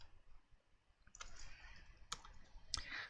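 Short bursts of computer-keyboard typing at a desk, a few separated clicks and quick keystroke clusters, close and fairly quiet with no talking.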